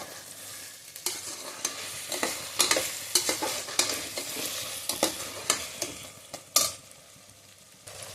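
Mutton with a handful of mint is sautéed in oil in a frying pan, with a steady sizzle broken by repeated scraping and stirring strokes of a spoon against the pan, close and fairly quiet.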